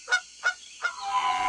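Three loud goose honks in a steady rhythm, each a short nasal blare, followed by a louder blurred stretch of noise with fainter honking in it.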